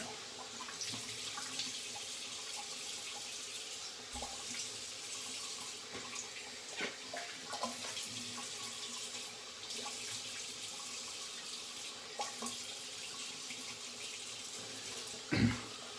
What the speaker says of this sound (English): Gonna rinse in cold Swedish water.